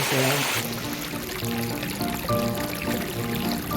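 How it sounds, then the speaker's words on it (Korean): Stream water trickling and pouring steadily beside a gently sloping pine forest path with stairs, a continuous close burble under a narrator's voice. "완만한 소나무 숲길 계단을 오르면서 졸졸졸 따라온 대곡 물소리와 함께"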